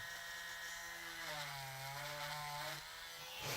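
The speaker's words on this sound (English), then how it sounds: "you kind of let the drill do its work" Power drill boring through the joint of a Mezco toy action figure, a steady whirring motor tone that dips in pitch as the bit loads up, then cuts off near the end, close and alone.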